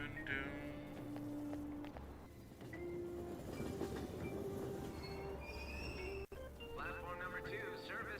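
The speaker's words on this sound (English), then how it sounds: "Gotta get on the train and ride home." A commuter train in Persona 5 Royal rumbles along with steady rail noise, squealing wheels and tonal hums, a soft continuous ride with a brief sharp click near the end.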